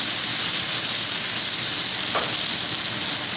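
Andouille sausages sizzle and fry steadily in a pan as they brown for Cajun potatoes, a dense, close hiss with one faint clink partway through.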